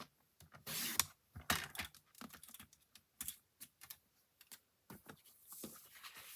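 A 4 by 4 square of card stock is cut for an envelope-fold greeting card with quiet, close, irregular clicks, snips and papery taps in short bursts.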